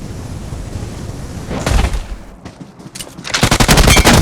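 Gunfire in a mobile video game, rapid bursts of automatic shots in dense clusters, loud and close, with a brief lull between volleys and no talking.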